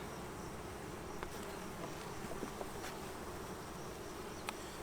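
Saskatraz honeybees buzzing steadily in an opened hive, a soft continuous drone with a few faint clicks, close by and with no speech.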